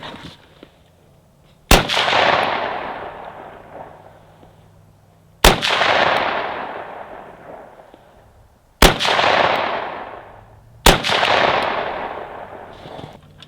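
Four sharp outdoor gunshots firing 55 grain rounds over a chronograph, each a loud crack with a long decaying echo, spaced a few seconds apart.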